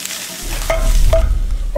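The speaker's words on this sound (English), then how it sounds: "Now a key step when adding the garlic, stir even more." Garlic sizzles in a skillet while a utensil stirs it, giving close, steady frying crackle with a few scraping clicks of the stirring.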